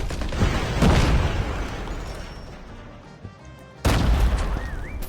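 Explosion in the mobile shooter Call of Duty Mobile during a squad match: a loud booming blast at the start that rumbles and fades over a few seconds, then a second heavy burst near the end.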